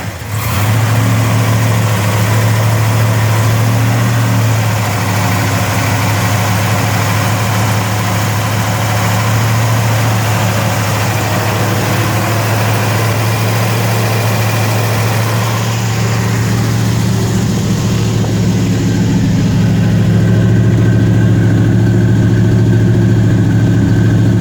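A 1967 Chevy Chevelle 427 SS with a still-warm motor idles loud and steady on a cool day, a deep, even rumble throughout with a slight shift in tone partway through and no talking.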